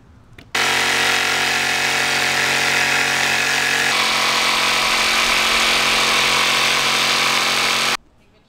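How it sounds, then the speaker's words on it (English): A jigsaw makes a plunge cut in a van build, starting abruptly and running loud and steady for about seven seconds. Its buzzing tone shifts partway through, and it stops sharply. "So I'm going to try plunge cut with a jigsaw."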